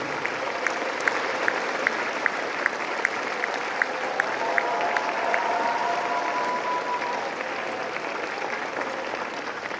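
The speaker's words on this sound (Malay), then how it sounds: "beri tepukan paling keruh untuk para pensyarah dan warga universiti" Convocation audience at the UNIMAS 29th convocation applauds lecturers and university staff with steady, even clapping throughout, slightly distant, with a faint voice rising briefly in the middle.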